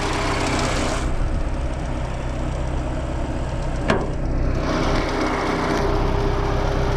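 A car engine idles steadily with a low, even rumble, close by, with a brief click partway through; no one speaks.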